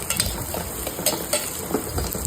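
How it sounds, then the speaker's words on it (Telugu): Onions, green chillies, curry leaves and garlic sizzle in hot oil for a ridged gourd and tomato curry, with brisk, rhythmic spatula scrapes and crackles up close. "ఇలా ఉల్లిపాయలు, పచ్చిమిరపకాయలు, కరివేపాకు, వెల్లుల్లిపాయలు వేపాలి"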